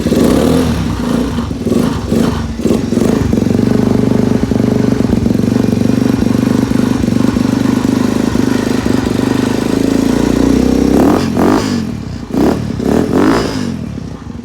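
A Honda NX 125 motorcycle with an aftermarket exhaust is cold-started on choke, settling into a loud, close, clattering idle with a few blips of the throttle.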